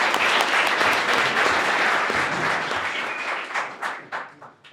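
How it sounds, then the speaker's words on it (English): A live audience at an ALX event applauds guests on stage with loud, full clapping that thins out into a few scattered claps near the end. "If you guys can please give them a round of applause for being here on stage."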